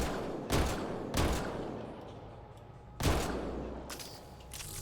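Rifle fire in the sci-fi shooter Mass Effect Andromeda: four sharp, loud single shots spaced roughly a second or more apart, each leaving a short decaying tail over low background game noise.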